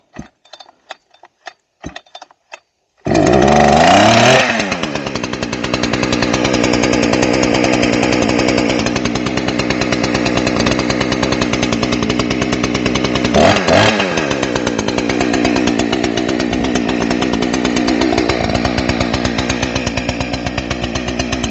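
A chainsaw engine catches after a few clicks and rattles, then settles into a loud, steady high idle with a brief rev midway, running close by in a woodlot of fallen beech trees.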